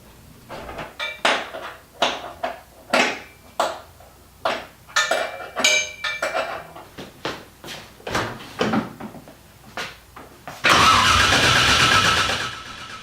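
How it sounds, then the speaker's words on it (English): A Nissan 240SX with a swapped LS1 V8 cranks over in a rapid run of rhythmic starter pulses for about ten seconds, then catches and fires into a loud, steady idle. The sound is close and there is no talk. "Fuel pump came on, and it started cranking really well."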